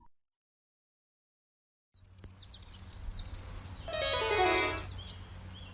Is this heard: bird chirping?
yes